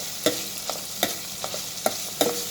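Ginger garlic paste fries in a pan for a fish pulusu, a constant sizzle broken by sharp scrapes of a spoon stirring at a regular rhythm.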